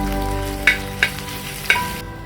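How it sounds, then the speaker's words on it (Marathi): Crushed ginger and garlic fry in hot oil in a pan, a steady close sizzle broken by three sharp clinks of a utensil against the pan, with no talk. "आता आपण तेलामध्ये आळं लसूणचा ठेचा टाकला थोडासा"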